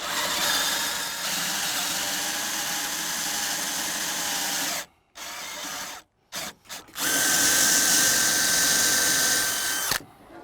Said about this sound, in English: You want to try not to drill too deep, because then when you put all your spindles in, they might fall out